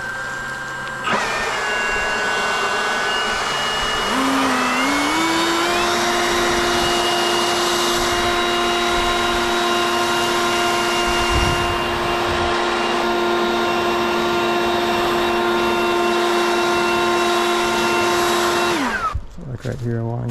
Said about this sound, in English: This is Gen 2, this is Gen 3, this is model 2724, this is model 3017.